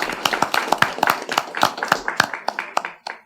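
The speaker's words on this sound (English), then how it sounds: "give you a round of applause and say thanks for a great job" Applause from a small group at a transit authority board meeting, honouring an employee: a few people clapping steadily for about three seconds, sharp distinct claps, fairly close, with no talking over it.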